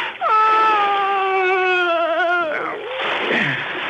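A woman's long, wavering moan in an audio drama scene rises and quivers for about two seconds, then breaks off, with muffled rustling after it.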